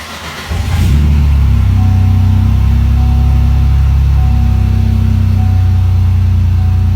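A 1948 Plymouth body on a 2004 Buick LeSabre chassis cranks briefly, catches, and settles into a loud, steady idle with a low, even rumble that continues to the end.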